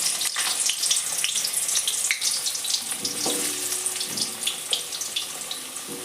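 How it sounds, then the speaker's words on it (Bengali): Potatoes fry in hot mustard oil in a kadai, a bright, crackling sizzle with scattered pops that holds steady throughout, close and moderately loud with no talking. "দেখুন কড়াইতে তেল গরম হয়ে গেছে এবার আমি আস্তে আস্তে আলুগুলোকে এর মধ্যে ছেড়ে দেবো"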